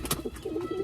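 Teddy and black home-breed pigeons in a loft give a soft, close cooing call, a short low burble of a few rolling notes.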